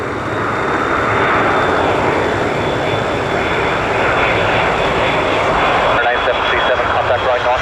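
A Ryanair Boeing 737 jet at Dublin Airport roars steadily and loudly throughout, a broad continuous engine rumble with a brief dip near the end; no one speaks over it.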